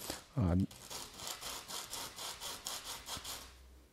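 A short low hum, then steady rhythmic rasping strokes of sandpaper rubbing back and forth on the base of a wooden Trotbot kit leg part, close by and fairly quiet.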